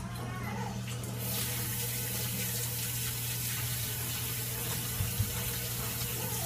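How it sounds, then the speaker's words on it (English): Tap water runs steadily while hands are rinsed under it in a home kitchen during pizza making, a close, continuous splashing stream with a low hum underneath. "I'm gonna rinse my hands"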